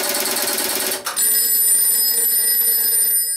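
Telephone bell on a step-by-step switch exchange ringing after a dialled call, a loud sustained metallic ring with a brief break near the start, no voices.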